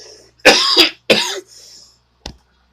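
A person coughs twice in quick, harsh bursts close to the microphone, followed by a short faint throat sound, with silence between.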